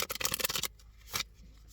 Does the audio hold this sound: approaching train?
no